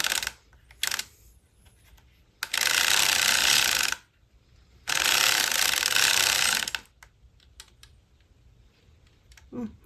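A circular sock knitting machine is cranked in two sustained bursts of dense, fast ratcheting clatter, each lasting around two seconds, with quieter scattered clicks in between and afterward.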